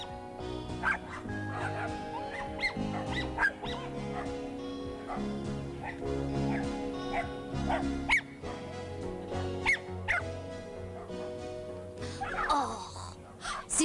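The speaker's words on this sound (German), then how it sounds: "ich zeig euch die Hunde" Several dogs roughhousing bark, yip and whimper in quick irregular bursts, with sharp high cries standing out from lower woofs at close range.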